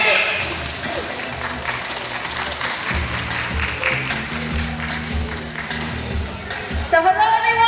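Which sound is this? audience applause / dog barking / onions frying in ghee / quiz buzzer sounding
audience applause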